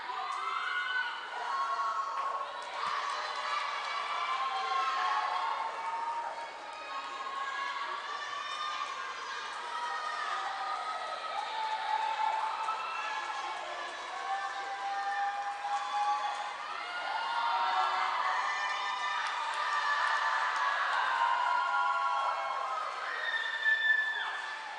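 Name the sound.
spectators cheering on swimmers at a swim meet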